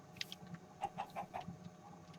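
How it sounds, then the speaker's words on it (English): A chicken in the Minecraft video game clucks in a short burst of four quick, evenly spaced notes, fairly faint over a low background hum. "Why do I hear a chicken?"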